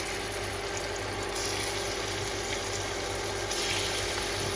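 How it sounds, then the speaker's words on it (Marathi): Prawns fry in hot oil with a steady, dense sizzle and hiss that barely changes throughout, under a faint background hum, and no one talks. "आपलं तेल गरम झालेलं आहे. तुम्ही कोलंबी टाकतो."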